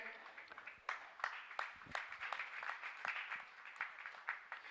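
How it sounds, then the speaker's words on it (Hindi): Applause from an audience at a Jain religious gathering honouring guests, a steady dense patter of many hands clapping at moderate distance with scattered sharper claps, continuing throughout. "आपकी तालियां निरंतर बजती रहे।"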